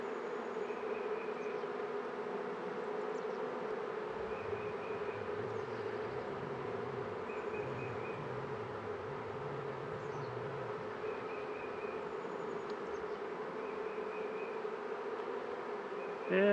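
Honeybees buzzing steadily during a spring beehive inspection, a dense continuous hum close by with no talk.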